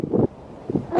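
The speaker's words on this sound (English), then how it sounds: "It's a little bit windy this morning." Gusts of wind blow outdoors in a fruit garden with blueberry bushes, buffeting the microphone in two loud bursts separated by a quieter lull.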